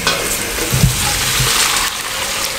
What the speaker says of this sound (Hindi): इसको उठा के स्ट्रेनर पे निकालने लगे हैं।